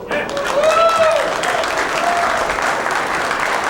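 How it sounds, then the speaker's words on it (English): Crowd applause at a 9-ball pool championship match, steady clapping from across the hall that stays moderately loud and is joined by someone talking over it and a brief whistle-like tone. "They're all clapping over there,"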